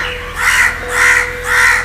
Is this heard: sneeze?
no